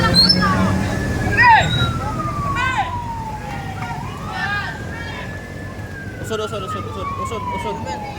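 A loud fire truck siren wails, its pitch sweeping slowly up and down in long cycles over steady background rumble and faint voices.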